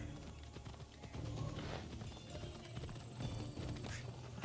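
Galloping horse hooves in Assassin's Creed Odyssey, a steady muffled rhythmic clatter of a ridden horse at moderate level, with faint game ambience and no speech.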